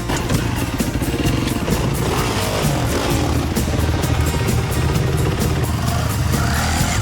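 An off-road motorcycle on a trail ride in Cambodia ramming its front wheel into a steep face, its engine roaring loud and steady throughout with rattling, clattering mechanical noise.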